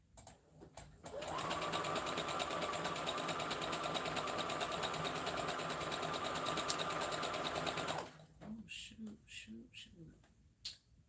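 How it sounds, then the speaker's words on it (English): Sewing machine stitching a zigzag along a fabric edge, a loud sustained mechanical whir running for several seconds between brief clicks, then stopping and giving way to handling noises and snaps. "I'm gonna hit a zigzag on that edge."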